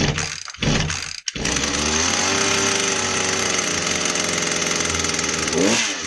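A Poulan Pro PP338PT small engine runs poorly and bogs, stumbling and dipping sharply in its first second before settling into a loud, rough, buzzing drone close by.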